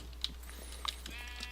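Sheep in a video game let out a few faint, short bleats, scattered across the moment over a steady low background hum.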